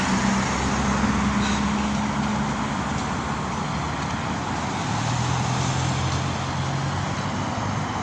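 Dense rush-hour road traffic streams past a city street with joggers and walkers, a steady broadband roar of cars, buses and trucks with low engine drones rising and fading, loud and continuous with no voices.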